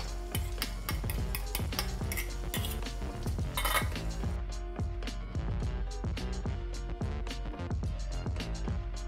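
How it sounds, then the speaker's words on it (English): Eggs are stirred in a hot pan for Indonesian fried rice, with a utensil clinking and scraping the metal in quick repeated strokes over a steady background sizzle, close and moderately loud with no talking. "Sizzling, sizzling, sizzling."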